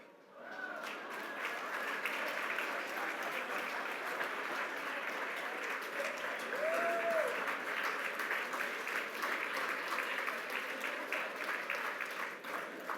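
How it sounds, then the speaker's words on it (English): Dense, steady audience applause at an awards ceremony honoring ambigram designer Douglas Hofstadter fills a large room, a continuous even roar of many hands clapping that holds for the whole stretch without a break. "Thanks for the applause."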